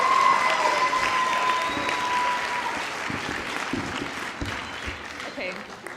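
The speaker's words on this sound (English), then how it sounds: "Please give them a round of applause." Audience applause fills a high school auditorium at the close of a school show, steady dense clapping that gradually thins and fades over several seconds, with some voices and cheers mixed in.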